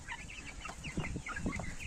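Young Bielefelder and Amrox chickens, mostly cockerels, clucking and chirping in a small flock of about fifteen, a busy overlapping chatter close by with scattered higher peeps.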